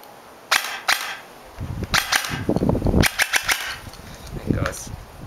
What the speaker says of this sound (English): Here is its trigger response on semi